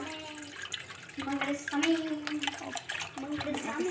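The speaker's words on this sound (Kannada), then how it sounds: "ಇದು ನೀರು ಹಾಕೊತೀನಿ ಇದ್ರಾಗ" Water is poured into a steel bowl, giving a splashing, gurgling stream that begins partway through and continues as someone talks over it.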